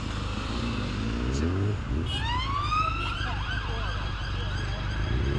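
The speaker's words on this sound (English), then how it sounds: "a police car passes by." A police car siren wails in rising and falling sweeps as it passes a street racing spot at a roundabout, over a steady rumble of engines and traffic.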